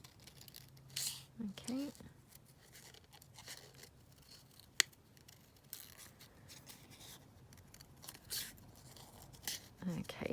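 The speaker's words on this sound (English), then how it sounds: "Right, let's cut out the butterfly instead." Scissors snip a butterfly shape out of a paper collage sheet, giving a series of short, quiet cuts and paper rustles spread across the scene, with a person speaking briefly.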